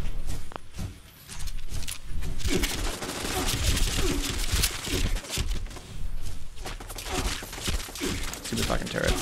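Turrets at the Whitespring Country Club in Fallout 76 fire in dense, continuous volleys of sharp shots for several seconds, loud and close, with a voice talking over the shooting.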